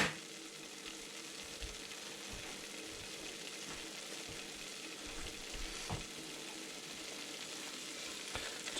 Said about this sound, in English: So I'm going to let that sizzle.